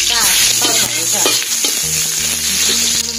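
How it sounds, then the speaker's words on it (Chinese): Ginger stir-frying in hot peanut oil in a wok gives off a loud, steady sizzle from start to finish, with scraping strokes of the spatula mixed in. "把生 姜爆炒一下"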